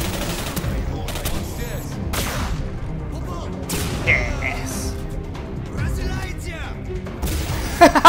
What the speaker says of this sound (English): the spike shot doesn't actually have very great accuracy